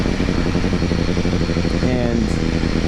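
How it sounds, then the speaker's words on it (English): The engine of a 2015 BMW S1000R motorcycle drones steadily while the bike is ridden, a continuous mid-pitched hum with wind noise, with someone talking over it. "if you're going to run through the gears in this bike, you are going to accidentally speed."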